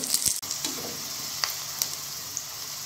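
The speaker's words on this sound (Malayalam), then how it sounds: "തീയൊന്ന് കൂട്ടിയിട്ട് കൊടുത്താൽ വേഗം നമ്മുടെ ഉള്ളി നമുക്ക് വറുത്തെടുക്കാം" Onions fry in hot oil over high heat for a Malabar beef biryani, a constant close sizzle with occasional sharp crackles and a spoon knock near the start.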